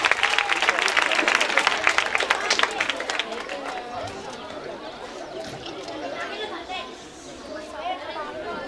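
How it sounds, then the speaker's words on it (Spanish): Audience applause for children at a music school closing event, loud dense clapping for about three seconds that fades into crowd chatter and murmuring voices. "Un fuerte aplauso para ellos antes de empezar a motivarlos."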